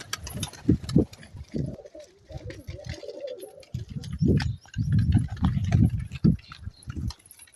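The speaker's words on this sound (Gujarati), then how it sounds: "કબૂતર આજે મસ્તીમાં છે." Domestic pigeons released from their loft coo in low, throaty bursts close by, with soft flutters and background rustle filling the pauses over several seconds.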